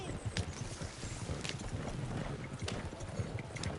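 Horse hooves clip-clop in a steady, uneven trot as the animal follows along close by, with brief sharper knocks mixed in and a speaking voice over the steps.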